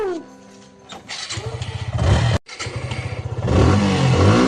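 A motorcycle engine cranks, catches and idles with a rapid putter, cuts briefly, then starts again and revs up loudly, close by.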